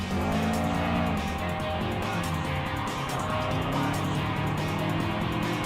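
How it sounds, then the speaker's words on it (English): Race cars, including Nissan Skylines, in the Gran Turismo Sport racing game: loud, continuous engine roar with tires squealing as cars jostle close together, steady and dense throughout with no talking. "coming closer to overtake the Nissan Skyline"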